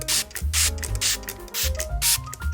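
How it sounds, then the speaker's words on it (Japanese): A spray bottle mists water onto tissue laid over paper for a watercolor-pencil painting of the moon and sea: four short, close hissing sprays in a loose rhythm. "下の部分にはティッシュをかけてスプレーで上からお水をかけます"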